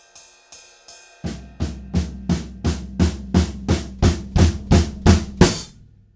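A drum build: a few light taps, then a steady run of eighth notes on floor tom, tom and snare growing louder, ending on a sharp crash with cymbal ring.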